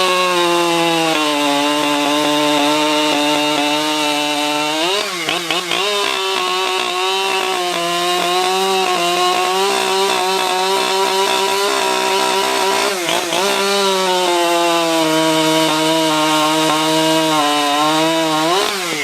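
A Husqvarna 592 XP chainsaw makes its first cut into wood, its engine screaming loud and close for the whole stretch, with pitch dipping twice as the chain bogs into the log.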